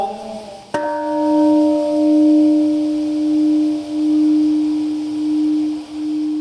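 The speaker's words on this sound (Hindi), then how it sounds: "इसी वक्त वो घंटी बजाई गई जो पीड़ितों ने 61 साल पहले यहां लगाई थी।" A large bell struck once at the Hiroshima peace memorial ceremony, its loud, sustained hum ringing out and slowly pulsing as it decays, with faint ambient noise behind it.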